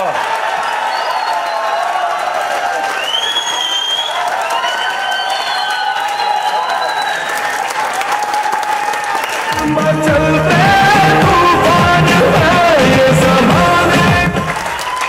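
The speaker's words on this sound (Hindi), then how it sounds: "उनके लिए ताली बजाना है तो दिल से बजा लो" Audience applause at a motivational talk by a company vice president, steady dense clapping filling the hall for about fifteen seconds, swelling louder near the end as music or cheering joins in.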